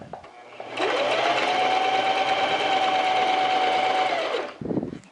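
A sewing machine stitches bias binding around a garment armhole in one steady, continuous run lasting about four seconds, close and loud, then stops abruptly with a brief clunk.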